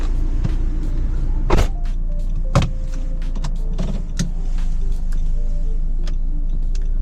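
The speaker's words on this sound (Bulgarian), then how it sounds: "Преминаваме към шофирането на автомобила, за да видим как се справя SUV-то в пътна обстановка." A 2019 Nissan X-Trail T32 SUV with the 2.0 dCi diesel driving on the road, heard from inside as a steady low rumble with several sharp clicks and knocks scattered across it.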